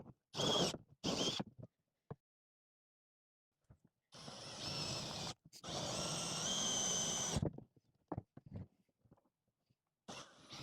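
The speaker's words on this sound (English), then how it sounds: "I have to drill some bigger holes, and I've never used a hole saw before" A power drill fitted with a hole saw bores larger holes for a chicken feeder, heard in short bursts and then one longer sustained whine, close and loud, with quiet gaps between.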